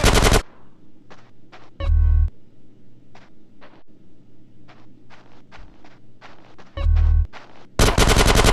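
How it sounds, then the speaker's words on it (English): Gunfire in the video game GTA San Andreas: loud blasts open and close the stretch, with two heavy bursts in between, while sharp scattered shots crackle at a steady pace throughout, with no talk. "Give me some fucking covering fire!"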